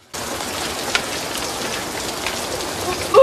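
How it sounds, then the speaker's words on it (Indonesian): Steady heavy rain falling in a film scene, a dense continuous hiss of drops on surfaces with no break, fairly loud and close throughout. "dan hingga hujan pun turun"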